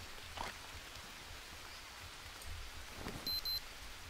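Soft, steady rain hiss in the jungle survival game Green Hell, faint and continuous with a few brief louder patches and small interface beeps near the end.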